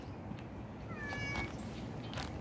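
Hungry cat meowing outdoors under trees in a Dubai park, one short faint meow in the middle amid soft background noise.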